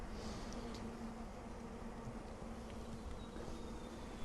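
Italian honey bees, a golden strain, buzz steadily around their hive outdoors, a continuous low drone with occasional individual bees passing close.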